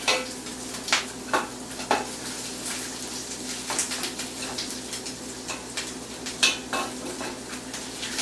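Onions and garlic frying over medium heat in a pan for paella, a steady soft sizzle with occasional stirring scrapes and light utensil clinks throughout.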